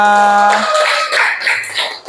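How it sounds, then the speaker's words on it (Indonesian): A class of students claps together in a classroom, the scattered, uneven claps following a short ringing tone and lasting about a second and a half. "tepuk tangan untuk kalian semua"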